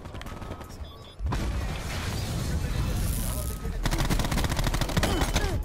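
Sustained automatic fire from a DAEMON 3XB MKII gun in a video game, loud and rapid bursts after a brief quieter lead-in, with a voice talking underneath.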